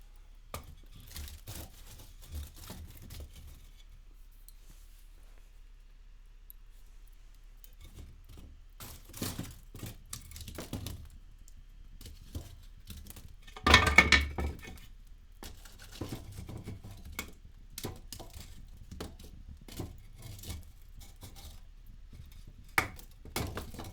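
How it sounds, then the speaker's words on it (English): Wood is added to a dying fire in a quiet setting, with sparse soft knocks, scrapes and rustles of handled pieces and one louder clunk midway, all faint against near silence. "Maybe we'll put some more wood. I made a thin piece here."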